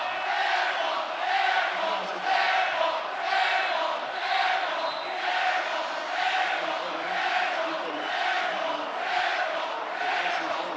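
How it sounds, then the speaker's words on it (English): Loud, sustained cheering and roaring from a packed college basketball arena crowd at Utah State vs Colorado State, swelling in waves throughout without a break. "Fans are letting them hear it here inside the Glen Spectrum."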